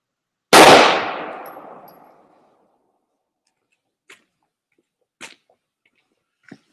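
Single sharp report from a Glock 43 pistol fired outdoors, loud and close, with a fading echo, followed by a few faint clicks.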